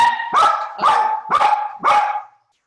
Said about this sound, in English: They put up with my dogs barking through multiple Zoom meetings